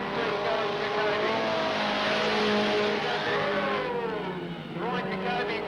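Race cars at Redline Raceway roaring past under a loud announcer's commentary, engines droning steadily with a rising and falling pitch as one car accelerates away near the end.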